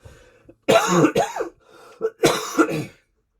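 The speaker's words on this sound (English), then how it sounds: "I had a cough." Two separate bouts of harsh coughing, close and fairly loud, each a quick burst of rough bursts with a short quiet gap between them.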